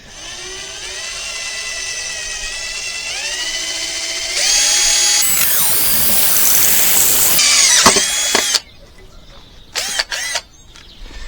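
A power drill whines steadily, rising in pitch and strain as it bores in, then stops, followed by a couple of short bursts.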